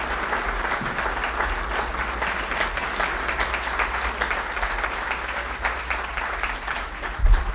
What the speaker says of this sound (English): ask for an applaud for our town administrator,